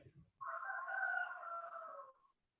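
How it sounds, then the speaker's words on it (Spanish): A rooster crows once, a single sustained cock-a-doodle-doo of about two seconds, clear and fairly close against a quiet background. "Ahí afirmó el gallo."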